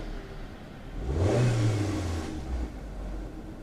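A car engine idles low, then revs up in a single rising surge before settling back to a rumbling idle, heard close by.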